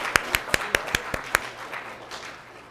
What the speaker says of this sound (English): I'll give you a round of applause because it's really impressive.